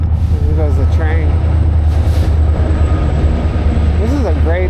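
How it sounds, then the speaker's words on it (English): A train passes near a bike path in Orange County, California, as a deep, steady rumble that runs the whole time, with a person talking over it. "There goes the train."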